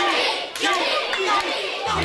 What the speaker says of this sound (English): this crowd making their thoughts about Kazuma and Mohammed clear